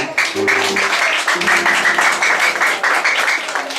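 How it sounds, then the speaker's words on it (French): An audience applauds Chris Man at an official church presentation ceremony for Eglise Le Rédempteur, steady, dense clapping running throughout, with faint sustained musical tones sounding underneath in the opening moments. "On applaudit Chris Man"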